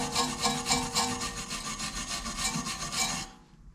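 Wire brush scrubbing surface rust off the rear brake disc of a 2009 Volkswagen Golf Mk6 2.0 TDI, a close, steady rasping stroke repeated rhythmically for about three seconds before stopping.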